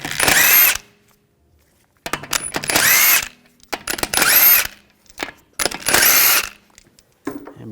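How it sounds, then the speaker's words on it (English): A power tool spins lug bolts off the front wheel of a 2007-2013 BMW 328i with a 17mm socket, four loud, close bursts of whirring separated by brief pauses and small clinks. "Take these lug bolts out."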